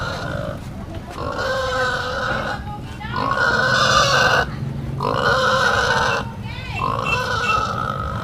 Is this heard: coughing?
no